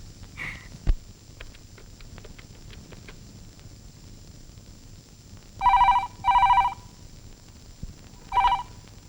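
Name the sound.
telephone ringing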